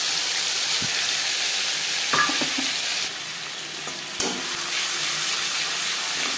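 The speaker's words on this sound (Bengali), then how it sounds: "5 ফোড়ন তেজপাতা ভেজে নেওয়ার পর দিয়ে দেব আদা ও কাঁচা পাকা লঙ্কার পেস্ট।" Ginger and red-and-green chili paste goes into hot oil with five-spice seeds and bay leaf, giving a steady close sizzle and frying hiss with brief stirring clatters, no voices.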